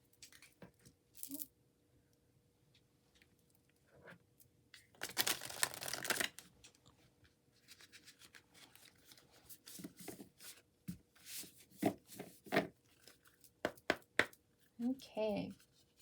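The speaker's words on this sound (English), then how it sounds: "One more shuffle." Tarot cards being shuffled by hand during a reading, with soft riffling bursts and scattered taps and flicks, one long dense shuffle in the middle, quiet and close, with a voice speaking at points.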